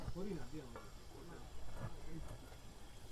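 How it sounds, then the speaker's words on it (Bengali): Chicken pieces go into hot oil with cooked-down spices and sizzle with a continuous hiss. A voice talks over the frying the whole time. "এবারে আমাদের এই যে চিকেনগুলো ঢেলে দেব"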